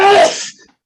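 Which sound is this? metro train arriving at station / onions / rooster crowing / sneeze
sneeze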